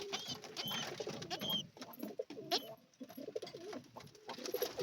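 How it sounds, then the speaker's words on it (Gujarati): Pigeons coo repeatedly in a loft, several soft, throaty burbling calls overlapping at close range, with a bird chick nearby and light rustling in between. "આ છે આપણા કબૂતર બધા"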